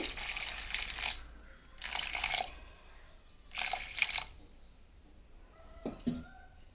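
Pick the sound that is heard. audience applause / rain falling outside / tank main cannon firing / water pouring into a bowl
water pouring into a bowl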